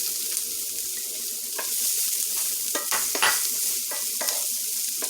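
White onion fries in a pan for ground beef stroganoff, a steady hiss with several sharp stirring scrapes and spatula knocks close by, nobody speaking.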